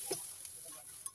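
A brief, close scrape and swish of a spoon stirring thick dosa batter of ground rice and lentils, with a light sizzle and a small clink at the end.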